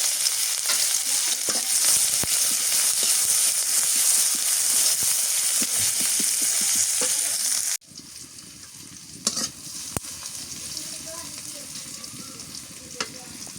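Chopped onion hits hot oil in a village kitchen, a loud continuous sizzle and crackle that drops suddenly partway through to a quieter, steady frying hiss with an occasional stir or clink.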